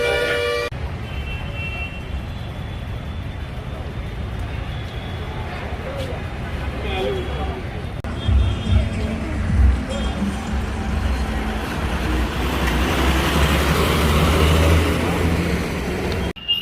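Cab pulling up on a busy roadside in Maharashtra, with car engines and traffic rumble throughout and a few short horn toots, growing louder near the end as the vehicle arrives, with people talking over it.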